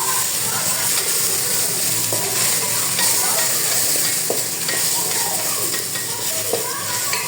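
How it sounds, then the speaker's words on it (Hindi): Mixed vegetables sautéing with crushed garlic in a pot over a strong gas flame for vegetable soup, a steady close sizzle with occasional stirring scrapes and clinks. "और अब मैं डालने लगी हूँ सारी मिक्स सब्जी। हल्का सा सौते करेंगे।"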